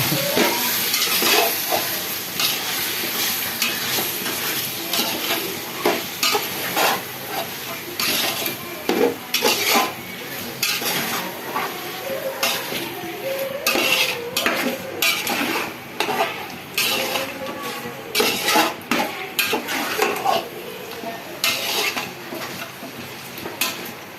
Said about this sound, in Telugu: ఇప్పుడు దీన్ని కొంచెం బాగా కలపాలి.